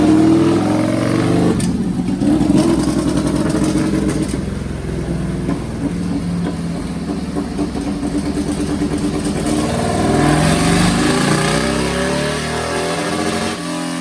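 A Suzuki Hayabusa motorcycle engine revving loud and close on a dyno while running rich, holding a sustained roaring drone that swells and eases over several seconds.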